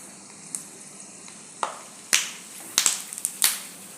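Peanuts roasting in hot oil give sparse, sharp crackles and pops at irregular intervals, growing busier partway through, over a quiet hiss.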